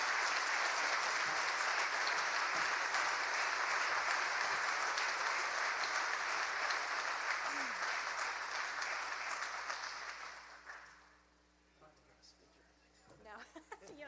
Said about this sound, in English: help me say thank you through applause to our 2019 Ambassador of the Year Award